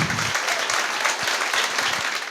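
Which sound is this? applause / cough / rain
applause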